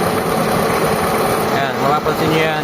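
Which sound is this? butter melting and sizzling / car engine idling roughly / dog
car engine idling roughly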